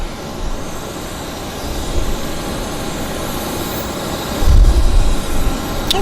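A Boeing 737 jet taxiing at Vancouver Airport, with a continuous loud low engine roar that swells and deepens toward the end, no voices.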